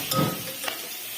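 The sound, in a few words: tomatoes being stirred and frying in a pan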